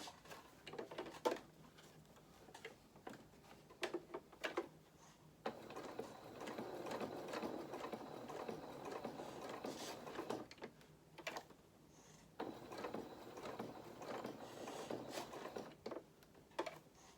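A sewing machine stitches felt for a cat doll in quiet, close bursts of rapid mechanical whirring, stopping and restarting several times as the fabric is pivoted.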